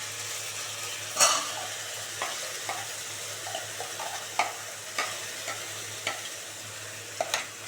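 Beet paste sizzles softly in a pan with fried onions, punctuated by occasional scraping stirs of a spatula, quiet and close with a low steady background hum.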